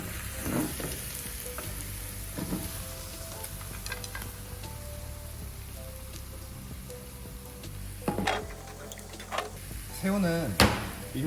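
Garlic and chili crackle and sizzle steadily in a frying pan, a soft continuous hiss with occasional louder clinks and stirring, while a person talks quietly.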